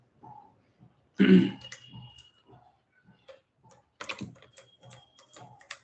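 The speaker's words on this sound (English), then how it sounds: "my button actually came out from my keyboard. Let me insert it back." Sparse clicks and clacks of a key being pushed back into a mechanical keyboard, with a sharper snap early on and a cluster of quieter taps later, close and otherwise quiet.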